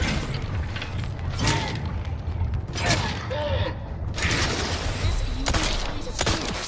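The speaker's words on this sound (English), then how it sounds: "Well, I guess shooting it is." Gunfire and mechanical clanks in The Outer Worlds 2 video game, a string of sharp shots and creaking metallic hits over a dense rumbling background, loud and close throughout.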